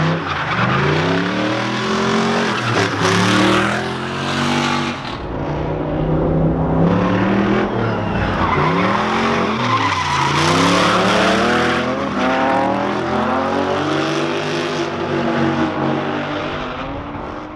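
A V8-swapped Nissan Skyline R32 or BMW E36 M3 drift car screams through a drift, its engine rising and falling in pitch under loud, sustained tire squeal, close and nearly continuous.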